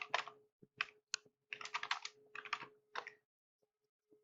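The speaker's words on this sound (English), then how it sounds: "And then you're going to type in your address." An address is typed on a computer keyboard as quiet clusters of rapid key clicks, with short gaps between bursts, ending in a longer pause.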